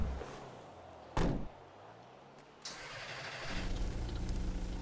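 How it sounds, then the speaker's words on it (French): A car door opens with a sharp clunk, followed by a softer thud a moment later, then a low engine rumble rises as rain patters in the background. "J'ouvre la porte."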